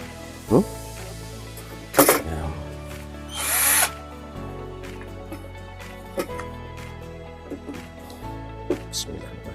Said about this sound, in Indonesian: yuk kita bor dulu ininya, kita bor di posisinya yang enak